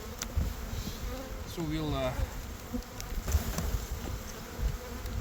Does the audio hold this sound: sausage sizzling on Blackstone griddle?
no